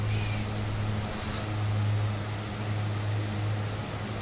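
A Twin Otter twin-propeller aircraft drones steadily in flight in Microsoft Flight Simulator 2020, a constant low engine hum with a faint high whine and no other sounds.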